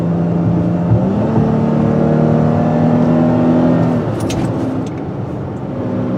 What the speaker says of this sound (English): You can see that this V6 makes some pretty nice sounds.